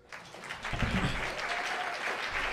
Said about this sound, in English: Why don't we give a nice round of applause for Duke Ellington?